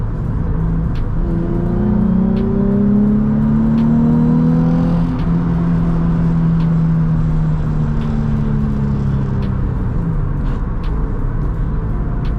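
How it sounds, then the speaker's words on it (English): A Nissan 350Z drives along with a loud, close engine drone rising and falling through gear changes, its fifth gear crunching, with faint periodic clicks over the continuous road and engine noise. "As you keep hearing there, my fifth gear does crunch as bad as the third."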